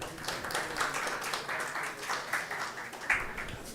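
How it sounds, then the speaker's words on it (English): Conference audience applauding panelists at a symposium, a dense, sustained patter of many hands heard from within the hall, fairly even and moderately loud throughout. "Another round of applause for our panelists."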